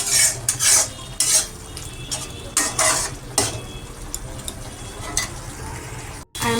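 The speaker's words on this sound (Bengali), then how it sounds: "মশলাটা ভালো করে কষিয়ে নিতে হবে।" Spiced masala with turmeric powder being stirred and fried in a pan, a utensil scraping and clinking against the metal in repeated strokes over a low sizzle, close and fairly loud.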